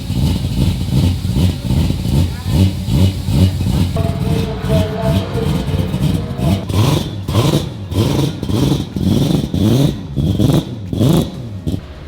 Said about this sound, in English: New headers in the endurance car. Sounds so good.